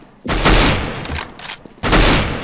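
Several loud bursts of video game gunfire crack in quick succession, sharp and close with brief gaps between volleys.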